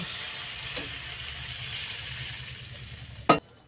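Water poured onto hot, well-fried spice paste in a pan, giving a steady hiss and sizzle that ends in a sharp clatter.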